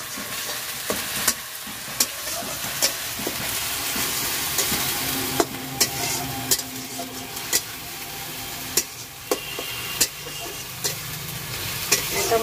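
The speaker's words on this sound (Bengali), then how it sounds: "মোটামুটি আমার পেঁয়াজটা ভাজা হয়ে গেছে" Onions fry in a pan for aloo dum, a steady close sizzle punctuated by sharp, regular clicks and scrapes of a stirring spoon against the pan.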